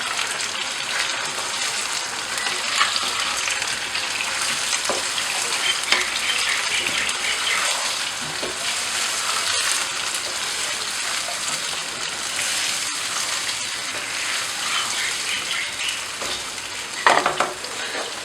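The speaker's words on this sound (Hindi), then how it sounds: "और अब इसे मैं अच्छे से मिक्स कर दूंगी।" Potato and aubergine curry stirred and sizzling steadily in a pan, with continuous close frying hiss and soft scraping of the spoon through the mix.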